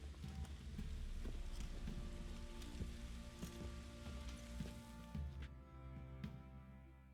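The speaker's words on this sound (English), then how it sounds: "Looks like rain." Steady rain in The Witcher 3 game patters and hisses on surfaces throughout, with occasional louder drops and a low rumbling background, no voices.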